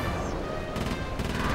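Rapid gunfire while shooting down guided missiles in the Whale Gunship level of Sly 3: Honor Among Thieves, quick repeated shots in two short bursts buried in a dense, steady wash of game noise.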